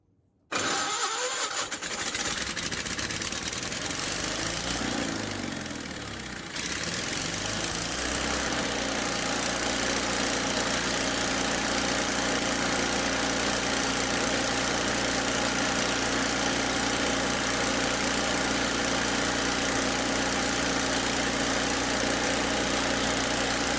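Lincoln Electric Weldanpower 250 G9 Pro welder engine, choke pulled, cranks briefly and catches, then settles into a steady, loud, continuous idle that runs alone to the end.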